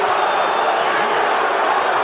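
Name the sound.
boxing crowd chanting Let's Go Bowe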